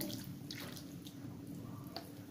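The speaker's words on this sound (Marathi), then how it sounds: "अर्धी वाटी पाणी घालते याच्यावर।" Half a cup of water poured over vegetables for a taro-leaf bhaji, a soft close trickle and splash with a few drips, quiet and steady, with no talking.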